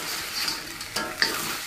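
Fried salted mujair fish is stir-fried in a pan with a soft sizzle, broken by a few scraping stirs and light clinks of the utensil.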